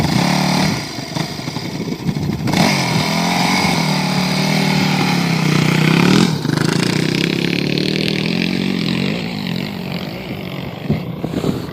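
An enduro motorcycle revs hard through the Khongoryn Els sand dunes at a 2014 enduro race. Its engine drones steadily and close for the whole stretch, rising and falling with the throttle.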